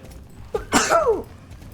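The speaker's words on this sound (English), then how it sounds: "I need to sneeze." A single sneeze from a person gaming at a microphone, a short sharp inhale followed by a loud burst, close and alone without talk.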